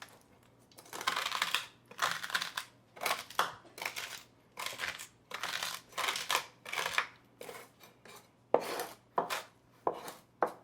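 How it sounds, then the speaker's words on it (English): Seaweed and Asian snacks are chopped on a board for a salmon crust, giving a steady run of crisp, close knife chops in quick uneven bursts, with no talking. "That should be chopped up enough"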